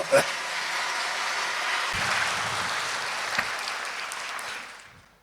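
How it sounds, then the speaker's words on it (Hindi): Loud clapping from a crowd at a Hindi spiritual discourse, a thick continuous wash of applause with a few sharper claps, holding steady before fading out at the end. "पहले जोर से ताली बजाओ"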